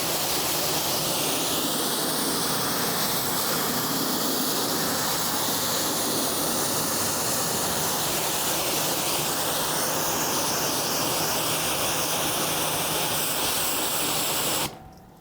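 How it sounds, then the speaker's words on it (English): A steady, loud hiss of water spray rinses a ceramic-coated car after its first wash following winter, continuous and close for about fifteen seconds before cutting off abruptly. "Water spot remover, time to rinse you off."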